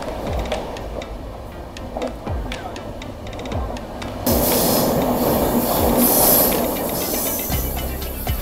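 A passenger train from Mumbai to Akkalkot runs on the rails with steady rumbling and rhythmic wheel clicks, growing louder and brighter partway through as the carriage noise swells.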